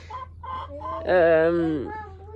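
A hen clucking up close, a few short clucks followed by a louder, drawn-out cackle.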